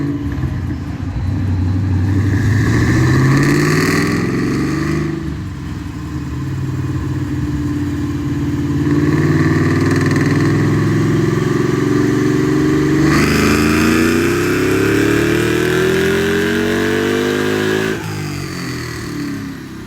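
The engine of a Mustang GT500 clone revs on a dyno, rising and falling in long sweeping pulls with a deep, loud roar, close and continuous with no talking.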